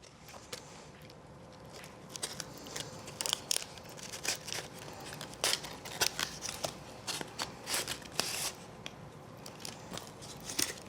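Scissors snip through cardboard pieces in a steady run of crisp cuts over several seconds, close up and fairly quiet against a soft background hiss.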